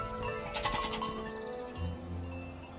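A goat bleats near a mountain village, a wavering animal call heard over a breezy outdoor background with faint jingling, no talk.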